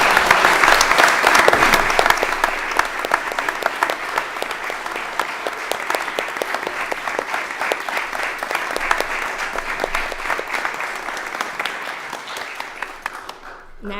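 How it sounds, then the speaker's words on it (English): A parliamentary celebration marking 100 years of women in the NSW Parliament, where an audience breaks into sustained, dense applause that holds steady for about fourteen seconds before tapering off at the end. "Please join me in a round of applause for the Honourable Virginia Bell"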